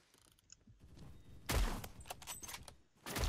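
Gunfire in the video game Phantom Forces during a sniper challenge, a few sharp loud shots with mechanical clicks and rattles between them, sounding close and punchy against quieter game ambience.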